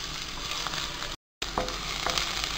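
Chopped onion and green chili sizzle steadily in a hot pan for chickpea masala, a close, continuous frying crackle broken by a brief gap of silence midway.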